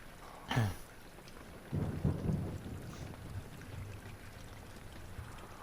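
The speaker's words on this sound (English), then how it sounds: "It was a dark and stormy night." Thunderstorm in an Amnesia horror video game: a sharp crack of thunder followed by a deeper rolling rumble, with soft steady rain beneath, fairly faint overall and without speech.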